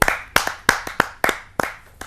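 Hands clapping at a Hindi poetry gathering (kavi sammelan), a handful of sharp, close, distinct claps in an uneven rhythm, sparse rather than a full crowd's applause.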